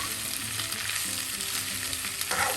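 Sliced ivy gourd (kovakkai) fries in a pan over a medium flame, a steady close sizzle with a brief stirring scrape near the end.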